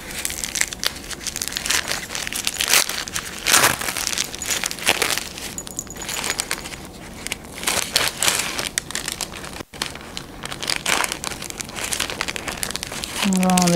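Plastic wrapping around a pack of medical sanitary pads crinkles and crackles continuously as it is torn open and handled close up, with a few sharper rustles.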